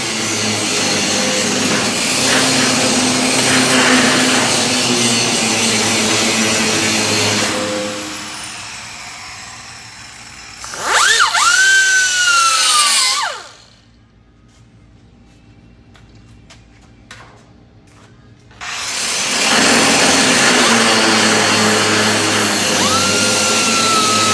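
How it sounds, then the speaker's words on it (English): Power tool slitting sheet steel for a wheel-well section of a Buick Regal Winston Cup car floorpan, a loud harsh whine and grind in long bursts with a squealing middle pass and quiet gaps between cuts. "we got to try to slit this so we can bow it to fit the contour of the"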